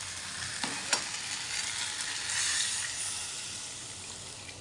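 Water poured into simmering aloo dum made with boiled potatoes sets off a loud, steady sizzle and bubbling in the pan, with a clink or two as it is stirred; no one speaks.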